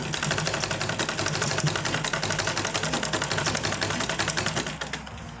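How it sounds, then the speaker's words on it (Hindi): A sewing machine runs steadily, stitching a seam on a dhoti salwar with a fast, even mechanical chatter that stays loud and close throughout, easing slightly near the end. "अब इसको इस तरफ से पलट के फिर सिलाई चला देंगे"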